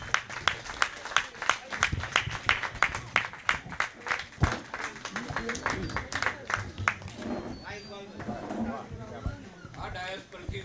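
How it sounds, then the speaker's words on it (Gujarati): Audience applause at a Rangmanch Seva Foundation Trust event in Ahmedabad, a dense run of crowd clapping that fades as a voice begins speaking. "એમના માટે જોરદાર તાળીઓ થઈ જાય"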